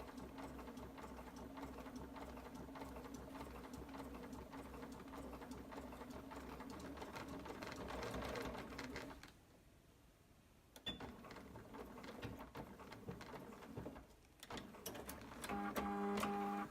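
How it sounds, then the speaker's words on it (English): A sewing machine stitches leather at slow speed, a steady close mechanical whirr and needle clatter that pauses briefly near the end before resuming, with no speech. "Have to go nice and slow with leather to make sure it doesn't skip the stitches."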